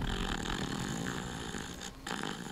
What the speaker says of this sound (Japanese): いびきやべえ。